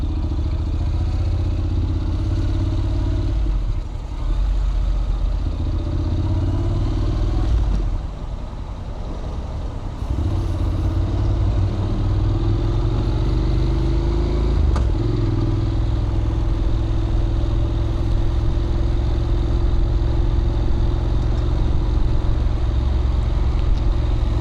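A Honda NC700X motorcycle cruises at low RPM at a steady speed, its engine a constant deep rumble under wind and road noise, with a brief lull midway and no talk.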